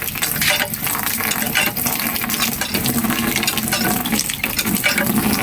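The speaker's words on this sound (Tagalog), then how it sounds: "Basta magbumba ka lang ng ganyan." A hand water pump being worked outdoors near the sea in Samar, with rhythmic metallic creaks and splashing, gushing water that rises and falls in a loud repeated pattern.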